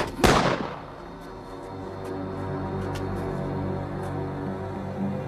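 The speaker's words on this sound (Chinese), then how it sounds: "我要开枪了。" One loud, sharp gunshot rings out near the start of a scene from a period costume drama. It decays quickly into a sustained music and ambience bed, with no talking.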